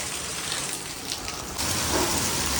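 Steady rain falls close by, a dense hiss that grows louder partway through and continues without voices.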